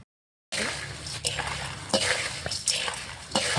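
Dry bhel stirred in a bowl with coriander and salt, a few soft scraping and rustling strokes in quick succession, close and fairly quiet after a brief silent start.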